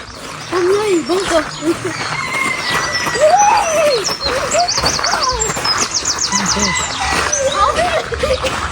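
Chickens at an exotic animal park in France, clucking and calling close by with bird chirps around them, while people talk over them throughout.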